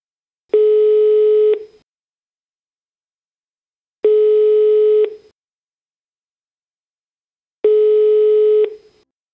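Telephone line on a call to a hotline sounds a loud, steady tone in three identical one-second beeps, spaced about three and a half seconds apart, with silence between them.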